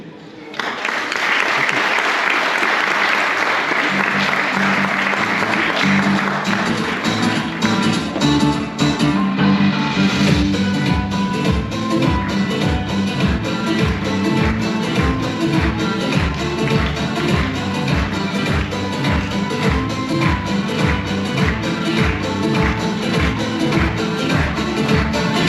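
Sustained audience clapping fills a Hazara culture day celebration in Linz, Austria, loud and dense throughout with a rhythmic pulse emerging, as a crowd applauds the arrival of a costume show team.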